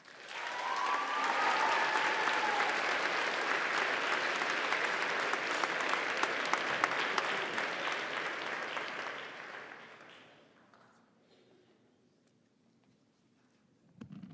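Loud, sustained applause from a school audience at an upper school honors day award ceremony, holding steady for about nine seconds before fading out into near silence.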